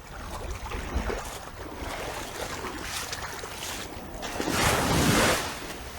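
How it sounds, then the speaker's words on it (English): Gentle waves on a beach at Carlisle Bay, Barbados, continuous soft wash and slapping of water with a louder surge toward the end, no voices. "You can hear these sounds down here of the water or the beach."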